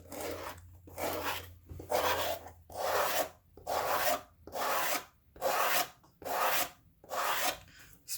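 The edge of a leather journal cover being rounded off with a file: about eight even, rhythmic rasping strokes, close and clear, with short pauses between them and no talk.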